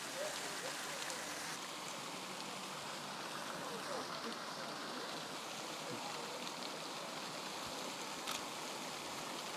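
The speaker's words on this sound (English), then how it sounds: "freeze the action and give us some nice sharp water droplets as they spray out of the fountain head" Water droplets spray out of a fountain head in a steady, fairly faint hiss of falling water that holds unchanged throughout.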